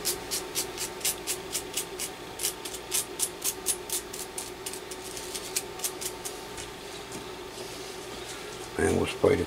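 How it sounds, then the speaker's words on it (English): Brass brush scrubbing the two pins of a connector on a classic Yaesu FTDX 560 radio: a fast series of dry, rhythmic scratchy strokes, close up, fading near the end before a brief clunk. "Just clean them with a brass brush."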